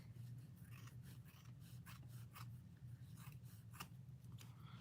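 Scissors snip off excess fabric while a Christmas stocking is being sewn, a quiet run of repeated close crisp cuts in a steady rhythm over a low background hum.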